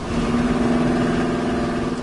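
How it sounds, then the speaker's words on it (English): A 1979 Dodge Lil Red Express truck with side-mounted vertical pipes and low restriction mufflers rumbles at steady speed, a deep throaty exhaust drone heard up close with no speech. "They have a unique sound to them. They put these pipes coming up the side, the mufflers, low restriction mufflers."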